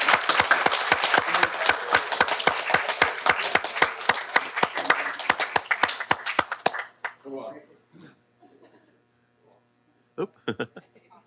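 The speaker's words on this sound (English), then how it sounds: "Round of applause." An audience applauds the graduating class of a June 2023 adult school at a school board meeting, giving dense, steady clapping for about seven seconds that then thins to scattered claps and stops, with brief talk afterward.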